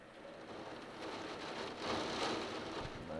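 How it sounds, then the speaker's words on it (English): Heavy rain from a severe storm pours down in sheets onto pavement, a steady, dense, loud hiss that swells slightly midway and continues without pause, no voices present. "You could see on the pavement there sheets of rain coming down."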